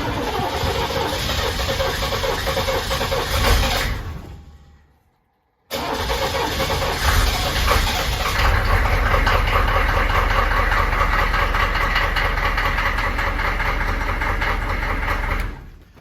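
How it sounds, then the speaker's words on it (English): HMMWV diesel engine cold-starts after glow plug warm-up at 42 degrees: a loud running clatter cuts off into a brief silence, then the engine cranks and fires, settling into a steady rough idle, close and alone. "So that's a cold start that I have now."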